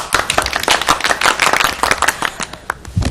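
Dense crowd applause in an animated film, many hands clapping at once in a fast, steady burst that holds loud for about three seconds with no speech.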